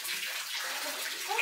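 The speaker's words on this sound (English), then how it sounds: "The fireplace here also has a waterfall." Indoor waterfall beside a fireplace in a desert Earthship home, a steady close splash and trickle of falling water.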